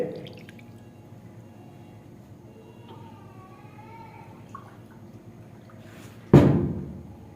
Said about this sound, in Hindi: अब इसके अंदर 2 गिलास पानी के ऐड कर लेंगे।